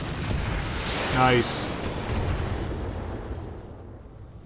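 Tank cannons fire everything at a heavily armored mech in a video game, producing a loud boom with a rising whistle and bright burst, then a long rumbling decay; a voice speaks briefly.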